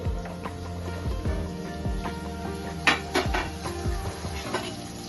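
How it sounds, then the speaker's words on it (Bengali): A lid lifted off a cooking pan of softening bell peppers, with metallic clanks and knocks over a low simmering sizzle, a couple of sharper clinks partway through. "2-3 মিনিট হয়ে গেছে, ঢাকাটা খুলছি"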